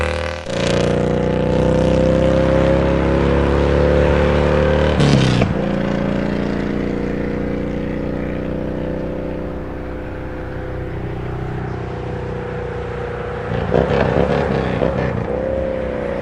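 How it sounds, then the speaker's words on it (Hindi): A motorcycle circles a wall-of-death well at a fair, its engine a steady droning roar with brief throttle surges at the start and near the end. "मौत के कुएं में चलती ये मोटरसाइकिल देखकर दिल की धड़कनें तेज हो जाती हैं।"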